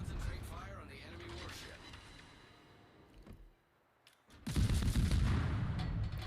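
Guns of a Kidd tier 8 American destroyer fire in World of Warships, heavy booming shots and rumble, a brief lull, then a loud close blast of gunfire.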